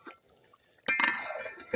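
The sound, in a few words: water being poured into the pot for matar pulao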